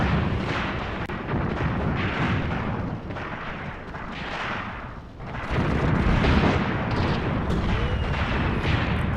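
Tank guns in Tank Warfare: Tunisia 1943 boom again and again in a dense, rolling barrage, with heavy artillery-like blasts layered over constant battlefield rumble for the whole stretch.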